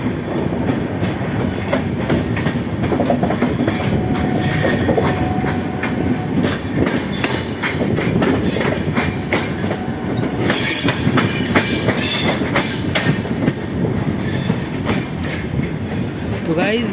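Loud continuous rumble of a Humsafar Express train running between New Delhi and Muzaffarpur, heard from inside a 3rd AC coach, with steady rail noise, wheel clatter and occasional squeals, and someone talking over it.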